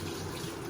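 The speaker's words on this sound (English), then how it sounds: "Can I have a minute to wash my hands?" Tap water running steadily into a sink while hands are washed, a brief continuous splashing hiss close by.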